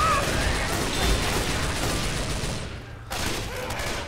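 Gunfire rattles in Left 4 Dead 2 as dense bursts of rapid shots and mechanical clatter, fairly loud and continuous, with a sudden brief drop near the end before firing resumes; players talk faintly underneath.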